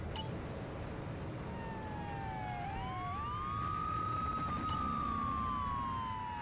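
Police sirens in Grand Theft Auto III running on the Dreamcast: rising and falling electronic siren wails sweep in over steady game engine and traffic noise, growing slightly louder toward the end with no talk.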